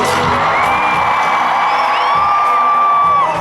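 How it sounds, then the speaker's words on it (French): Concert crowd at the Arènes de Nîmes arena cheering, whooping and shouting continuously, a loud dense roar of many voices with high whistles and yells rising over it throughout. "Et ça crie, ça crie, ça crie."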